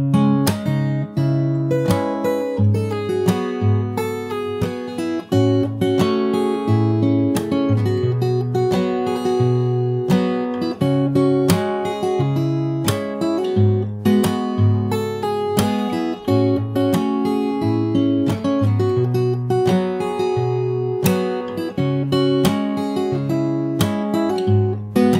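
Solo fingerstyle acoustic guitar plays the end of the chorus of a song and moves into the verse through a short fill, mixing bass, melody and rhythmic slaps. It stays loud and close throughout, with no talking.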